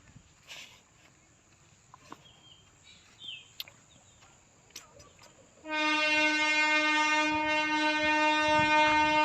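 A train horn blasts loudly and steadily after several seconds of quiet ambient noise with scattered clicks and footsteps, as a train approaches a station platform.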